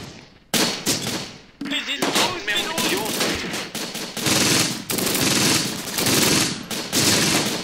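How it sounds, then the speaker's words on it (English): Dense gunfire in a WWII strategy video game set around Caen, with machine-gun bursts and rifle shots crackling almost continuously, loud and close, with faint voices mixed underneath. "we're still having a gunfight with this unit that's on the other side of the stone"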